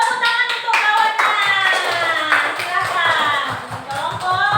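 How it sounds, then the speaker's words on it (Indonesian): Children in an elementary school classroom clap for a classmate, a rapid, fairly close patter of small hands mixed with children's voices. "tepuk tangan untuk kawannya"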